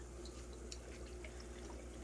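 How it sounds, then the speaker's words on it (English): Water drains steadily from a fish tank gravel vacuum into buckets during a 75-gallon aquarium water change, a continuous close gushing and trickling with faint drips throughout. "draining out the last of the water out of the gravel vac"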